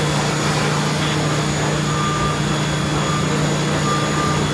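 Steady, loud engine drone from a motocross motorcycle at a Cagayan de Oro motocross final leg, a continuous buzzing roar that holds evenly throughout with no pauses and no talk.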